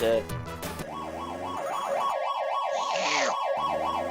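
A wailing ambulance siren in the 1989 SNK game Street Smart, its pitch sweeping up and down rapidly and steadily, loud and continuous after a brief burst of other sounds.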